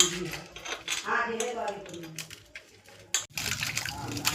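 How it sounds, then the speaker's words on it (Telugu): Cut korameenu fish being scrubbed with rock salt and water, wet splashing and rubbing with clinks against a vessel, close and uneven, with a person talking over it. "కల్లుప్పు వేసి శుభ్రం చేస్తుంది అంతా."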